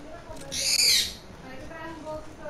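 A bird call rings out in the Splitgate video game: one bright, shrill burst lasting under a second, set against quieter game sounds and faint background tones.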